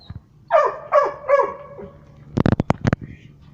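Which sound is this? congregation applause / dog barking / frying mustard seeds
dog barking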